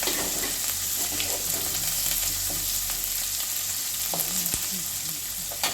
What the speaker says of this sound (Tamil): இப்போ நம்ம காஞ்ச மிளகாய் சேர்த்துடலாம். சேர்த்துட்டு எல்லாம் வந்து வதக்கிடலாம்